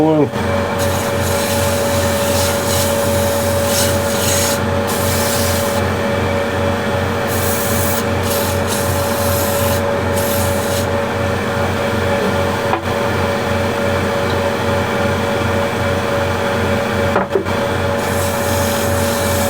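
Tung oil is rubbed by hand onto a sanded, freshly turned wooden bowl, a steady close rubbing swish over a constant hum, with brief clicks and gaps, while a voice speaks briefly.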